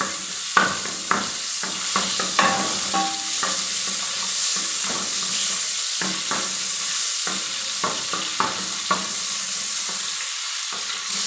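Butter melting in a hot pan over high flame while making homemade popcorn, a steady sizzle with scattered stirring clicks and scrapes throughout, close and fairly loud.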